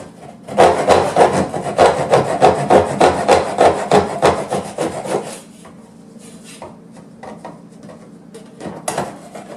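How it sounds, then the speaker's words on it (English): A saw cutting through a wooden door trim at floor level during a flooring install, with fast rhythmic rasping strokes for about five seconds, then fainter scattered scrapes, close and with no speech. "I'm going to go ahead and finish to cut out a little bit more over here on this trim"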